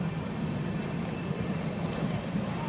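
Inside the Ratnachal SF Express pulling out of Anaparthi station, a steady low rumble of the moving carriage fills the space, with faint rattles and a muffled background hum throughout.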